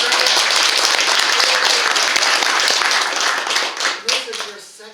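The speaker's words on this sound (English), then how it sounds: "Round of applause, Peter." Audience applause at the opening ceremony of a bushcraft meet-up in Oneida, Tennessee: loud, dense clapping from a crowd that holds steady, then thins out and tapers off toward the end.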